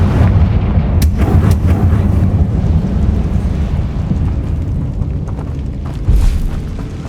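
A fiery Confringo spell blast in Hogwarts Legacy, heard as a loud, booming explosion with a sharp crack near the start and a rumbling tail that swells again toward the end, dense and close with no talking.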